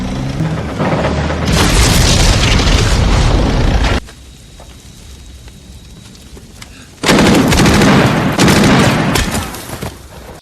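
War-film battle in Saving Private Ryan: dense, loud gunfire and heavy explosive booms roar continuously, drop to a quieter rumble for a few seconds, then burst back in just as intensely.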